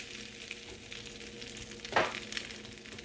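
Egg toast fries in a pan right after being flipped, a quiet continuous sizzle with a short burst of louder crackling partway through as the bread settles.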